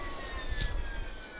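A jet engine in the ArmA 2 video game drones steadily, a smooth whine and low roar with a gently falling pitch, alone and close.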